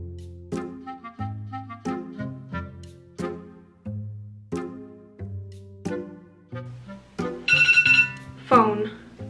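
A short electronic ringtone melody on a phone plays as a series of tonal notes, ending in a brighter trilling burst; a voice can be heard briefly.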